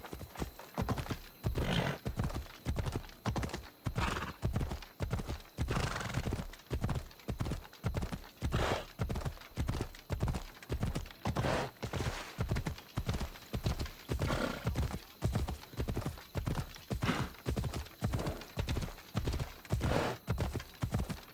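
Horses gallop in a race in the video game Assassin's Creed Odyssey, with loud, rapid clip-clop hoofbeats in a steady driving rhythm throughout, now and then joined by a neigh.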